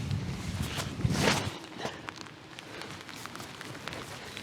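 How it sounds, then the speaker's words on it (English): Rain falls with gusting wind on a disc golf course, a faint, soft patter and rustle broken by a few close crunching footsteps early on. "Wind just picked up and it's still raining even more."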